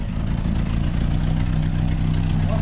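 A 1961 Cadillac engine with a slight exhaust leak idles loud and close, a steady low rumble with an even, throbbing pulse throughout.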